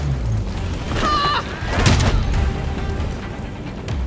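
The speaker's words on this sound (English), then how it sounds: "Enjoying the fireworks." Muffled booms and crackling bursts of fireworks in Gotham Knights, a couple of louder pops rising above a steady noisy background.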